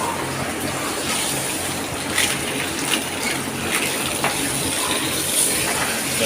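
Dirty water gushes steadily out of a pig pen, a continuous rushing flow with no pauses, fairly close and without talk over it.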